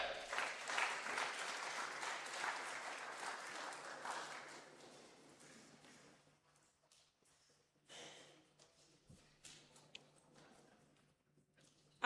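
Applause from the audience at an international conference greeting the Niger delegation, a steady round of clapping that thins out and fades into a quiet hall with occasional small noises.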